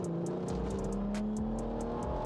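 BMW 640d Stage 2 diesel coupe at about 400 bhp accelerating hard: a rising engine drone that climbs steadily in pitch, loud and close from inside the car, with repeated short ticks over it and no talking.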